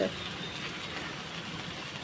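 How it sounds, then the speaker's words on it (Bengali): Lentils cooked with salt and turmeric boil in a pot, producing a steady, soft bubbling hiss that stays quiet and even with no talking. "এদিকে ডালটা আমার ফুটছে"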